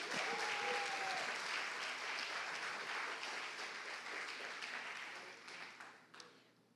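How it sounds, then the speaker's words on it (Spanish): Church congregation applauding the Lord, a dense wash of many hands clapping that holds steady and then fades out toward the end. "Fuerte el aplauso al Señor."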